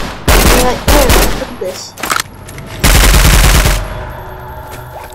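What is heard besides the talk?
gunfire from a gun in Roblox Contact A-888 video game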